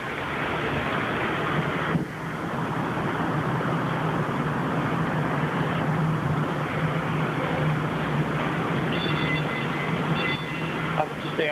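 Steady loud rumble of a train running along the track, continuous from start to finish with a brief dip near the start and faint higher squeals toward the end.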